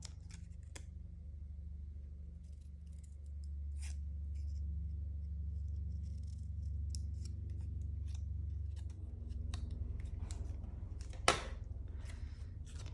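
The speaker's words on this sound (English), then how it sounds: "I'm just going to trim up the middle and make them into little pennants." Scissors trimming paper strips into small pennants for a graduation craft page, with quiet repeated snips and rustling over a low steady hum.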